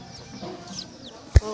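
Chickens cluck softly in the background, a few brief low calls, with one sharp knock or thump near the end.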